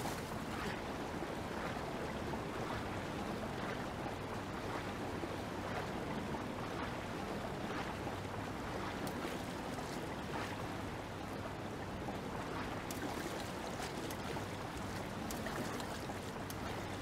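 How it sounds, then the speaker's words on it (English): A waterfall in Zelda: Breath of the Wild rushes in a steady, dense roar of falling water that runs continuously and evenly throughout, with no talk over it. "Oh, is there a waterfall over here?"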